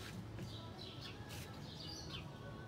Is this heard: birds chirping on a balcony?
yes